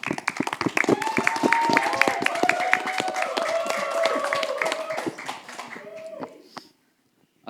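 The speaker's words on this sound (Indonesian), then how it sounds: "Aplaus dulu." A school audience claps together for a futsal team, dense, steady applause with scattered voices and a dog or animal sound mixed in, building for about five seconds before thinning out and stopping.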